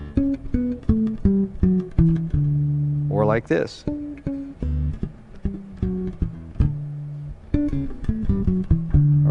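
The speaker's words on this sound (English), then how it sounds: "now it sounds like this with artificial harmonics." A guitar played with artificial harmonics rings out as a run of bell-like, chiming notes in a steady melodic line, with a brief slide in the middle. Someone speaks a few words briefly over the playing.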